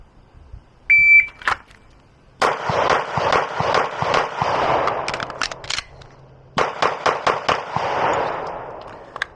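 Pistol drill with a Beretta APX or Glock 19: a high beep, then two rapid strings of sharp, close shots, seven or eight in each, split by a short pause for a reload.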